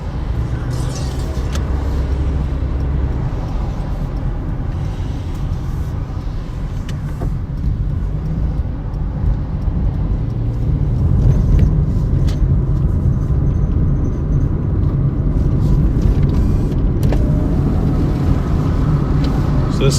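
Steady wind roar through the open windows of a moving Toyota Corolla, a continuous low rumble of road and air noise that swells slightly midway, with no talking.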